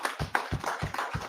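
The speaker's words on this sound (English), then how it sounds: "Clap it up for the class." A class claps together in a steady rhythm, about five or six sharp, evenly spaced claps at a moderate distance.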